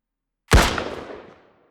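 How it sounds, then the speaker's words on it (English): A single gunshot from the shooter game Rapid Impact, a sharp loud crack followed by a decaying reverberant tail lasting about a second. "it does a little gunshot every time you left click"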